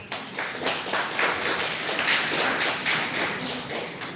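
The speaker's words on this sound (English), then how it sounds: "Let us all clap for him." An audience at a seminar applauds for an explained talk, a dense, steady wash of many hands clapping at once that holds evenly throughout without voices.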